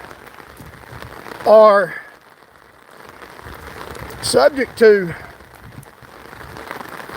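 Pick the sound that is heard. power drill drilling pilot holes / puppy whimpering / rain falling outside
rain falling outside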